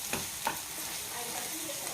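Shrimp frying in a hot pan for a prawn curry, an even close sizzle with a couple of soft stirring clicks at the start.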